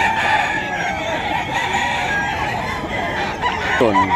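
Roosters crow and cluck at the crowded Bocaue, Bulacan pet market before dawn, several birds at middle distance over a busy background murmur, with one crow standing out near the end.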